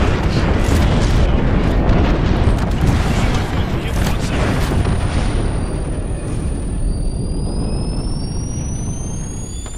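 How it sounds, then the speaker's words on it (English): Airstrike explosions in Apex Legends roar as a dense, rumbling barrage, loud and continuous before slowly easing, with thin tonal whines sliding upward near the end. "Heads up, we got an airstrike on."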